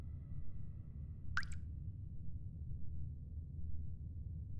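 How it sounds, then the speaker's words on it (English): Water drips in The Stanley Parable: a single crisp drop plops partway through, another begins right at the end, over a quiet low ambient hum. "There's water dripping down."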